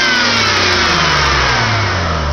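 A car engine revs hard and steadily after a new high-amperage alternator install, the loud, close mid-frequency roar holding without a break throughout.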